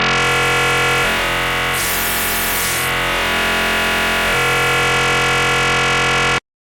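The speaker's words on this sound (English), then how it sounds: "the more we're kind of introducing that very digital sounding distortion" An FM synthesizer with operator feedback raised produces a harsh, buzzing digital distortion, a loud sustained tone with a burst of noisy grit in the middle before it cuts off abruptly.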